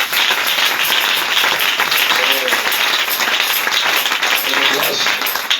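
A church congregation claps and cheers in praise of the Lord, a loud, steady wash of applause that holds for the whole stretch. A few voices rise briefly through it.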